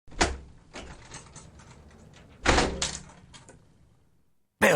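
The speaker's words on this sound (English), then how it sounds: "Suddenly, the captain walked through the door, slamming it." A door is slammed shut indoors: a loud, sharp bang, then a second heavy impact and clatter a few seconds later, followed by a brief knock, with no voices.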